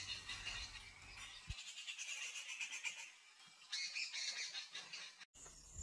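A rufous treepie's harsh distress calls chatter insistently from a distance over a faint background of other birds and insects in Tadoba Andhari Tiger Reserve.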